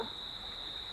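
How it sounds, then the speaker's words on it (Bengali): Crickets chirp at night in a continuous high, shrill trill, steady and unbroken, with quiet background and no voices, at a resort. "ঝিঝি পোকার ডাক শুনছি"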